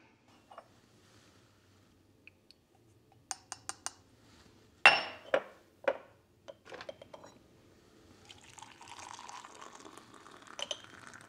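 A metal teaspoon clinking against cups while a drink is prepared, scattered sharp close taps and a few louder clinks, followed by softer rustling and pouring-like sounds in a quiet room.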